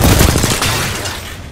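Gunfire in the Apex Legends video game, a short, dense, loud burst of rapid shots that fades slightly toward the end, with no talking over it.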